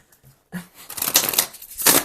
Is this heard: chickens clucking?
no